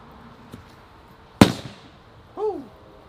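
An Airsoft Innovations BANG 22 grenade loaded with a yellow cartridge goes off with a single sharp, loud bang and a short tail, followed by a brief vocal whoop.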